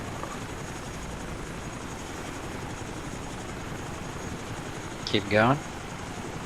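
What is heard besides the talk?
Chinook helicopter flying, from video game ArmA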